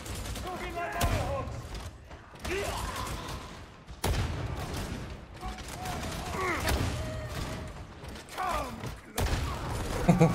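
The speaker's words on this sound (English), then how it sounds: "Just a giant shotgun" Giant shotgun-like cannon fired in Warhammer 40,000: Darktide, heavy booming blasts at around 1, 4 and 9 seconds amid combat clatter and game voices, with a speaking voice throughout.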